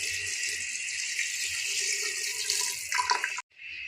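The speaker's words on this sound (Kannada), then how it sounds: "ಇವಾಗ ನನಗೆ ಎಷ್ಟು ಬೇಕು ಅಷ್ಟು ನೀರು ಹಾಕ್ಯಂತೀನಿ" Water runs steadily from a tap or jug into a pot of simmering mutton curry, a continuous close splashing stream that cuts off abruptly near the end.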